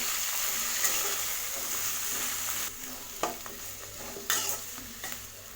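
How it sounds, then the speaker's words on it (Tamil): White pumpkin pieces sautéing in a pan for hotel-style sambar, a steady close sizzle with occasional scrapes and stirring clicks of a spoon against the pan. "இதை நல்லா வதக்கி விட்டுக்கலாம்."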